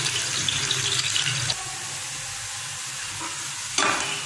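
Onion frying in a pan, a continuous close sizzle with stirring scrapes, dipping briefly in the middle before a louder burst near the end.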